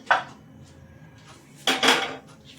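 A metal pan is set down on a stovetop, a sharp clank near the start and a louder double knock later, close by with quiet between.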